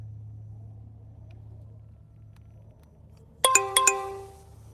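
A phone's alert chime sounds twice in quick succession, overheating warning tones ringing out clearly above a low outdoor rumble at an RC course hangout.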